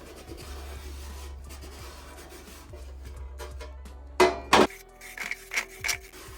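Brushing and cleaning around a freshly cut round speaker hole during a Bluetooth speaker upcycling build, soft steady rubbing strokes up close followed by several sharper brushing scrapes near the end.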